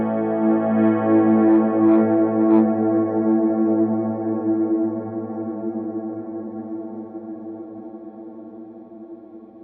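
Electric guitar run through an HX Stomp effects processor, a sustained chord with chorus, echo and light distortion ringing out and slowly decaying, heard alone with no talking.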